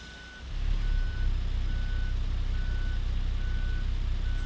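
MAN TGA truck reversing in Euro Truck Simulator 2, with an evenly spaced reversing beep repeating about five times over a steady low engine drone.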